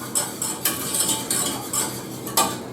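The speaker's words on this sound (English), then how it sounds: "Just break them up, give them a stir around," Egg yolks for a cheese soufflé being stirred in a pan, a utensil clinking and scraping in quick repeated strokes, close and clear with no talking.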